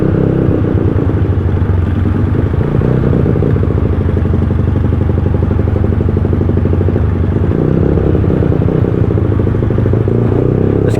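A motorcycle idles with its exhaust pipe sunk in deep flood water on a flooded street in Balagtas, Bulacan. The engine drones steadily and loudly throughout, with a bubbling, sputtering flutter.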